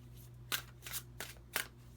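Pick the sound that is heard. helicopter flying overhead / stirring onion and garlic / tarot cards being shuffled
tarot cards being shuffled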